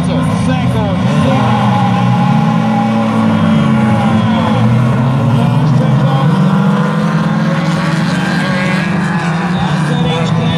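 Eight rallycross race cars on the grid of a qualifying heat at the 333 track, engines droning and revving loudly together in a dense, continuous roar, with a commentator talking over them.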